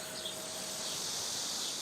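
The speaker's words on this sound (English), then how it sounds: "the cicadas" Cicadas at a forest temple in Samcheok, Korea, make a steady, high-pitched drone that fills the air continuously, with faint chirps mixed in and no voices.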